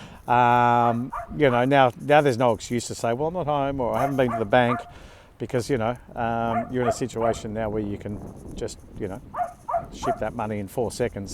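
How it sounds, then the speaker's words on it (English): A dog barks and whimpers in short yips and whines in the background while someone speaks continuously over it. "Sorry about that dog."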